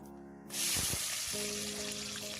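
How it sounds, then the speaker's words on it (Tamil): Garlic drops into hot castor oil, and a sudden loud sizzle bursts out after a brief thump, then holds as a steady, close crackling hiss to the end. "இந்த பூண்டு நல்லா வதங்கணும். எண்ணெயில் நல்லா வதக்கி எடுத்துக்கலாம்."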